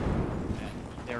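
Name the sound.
explosions in video game Battlefield 2042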